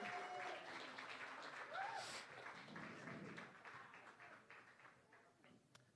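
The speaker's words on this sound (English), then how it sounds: "They're going to give you a round of applause as you head back to your seats" Audience at a magic show applauding volunteers as they return to their seats, a broad patter of clapping with a few shouts, strongest at first and gradually thinning and fading toward the end.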